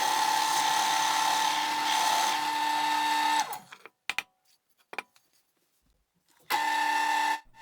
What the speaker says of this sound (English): we're now drilling the hole in the upper part of the bottle holder